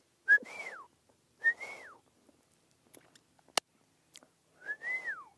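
Outdoors in West Texas, a person makes three short, faint whistle attempts. Each is a rising then falling tone with breathy air around it, separated by quiet pauses and a few soft clicks.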